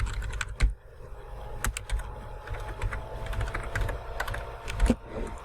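Fingers type a title on a computer keyboard, a quick, uneven run of close clicks with a few heavier key strikes, and no one speaks.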